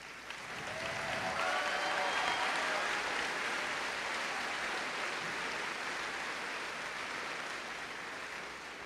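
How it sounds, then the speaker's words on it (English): Sustained applause from a large crowd honoring summa cum laude graduates at a high school graduation ceremony, a dense steady wash of clapping that rises quickly and holds for several seconds before easing slightly. "Will the summa cum laude students please rise and celebrate them with a round of applause?"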